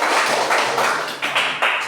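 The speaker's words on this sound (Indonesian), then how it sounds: "tepuk tangan dulu untuk Arlon" A classroom of students clapping for a classmate, a dense steady patter of many hands filling the whole moment, fairly close and loud, with a few stronger bursts toward the end.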